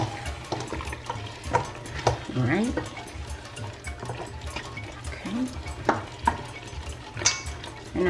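A spoon scrapes and clinks in a pot of Ghanaian okra stew with fish, the stirring strokes coming in irregular bursts over a low simmer, while a voice speaks briefly.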